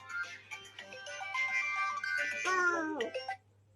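A mobile phone rings as a brother calls, playing a bright melodic ringtone of clear sustained tones for a few seconds close to the microphone before it cuts off.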